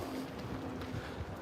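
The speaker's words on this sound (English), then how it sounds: "So the wind's kicking up again" Outdoor wind buffets the microphone in a steady, rough roar that fills the whole moment, with no voice heard.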